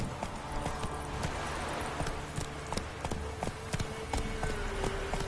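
Horse hooves in a PS4 video game clop in a steady, quick galloping rhythm, close and continuous, over a dense bed of ambient noise with a faint snort or whinny.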